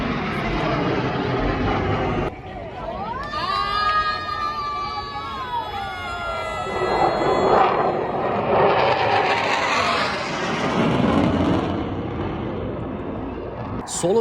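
A Turkish Air Force SoloTürk jet flies an air show display, its whining engine sweeping past and fading into a broad roar. Crowd noise and talking run underneath throughout.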